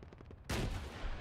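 A single heavy gunshot from a video game cracks out loud and close after a stretch of quieter rumbling, its boom lingering and slowly decaying.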